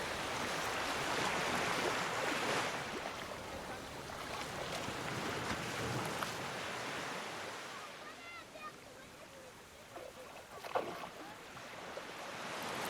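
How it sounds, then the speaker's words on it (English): Ocean waves wash onto a sandy shore in a continuous roar, swelling louder early on and then settling into a softer, steady surf with occasional splashes. "In each wave, as it softly caresses the sand"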